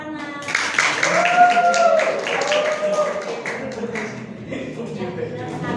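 A classroom group of students claps for a presenting student group, a short burst of applause with voices mixed in.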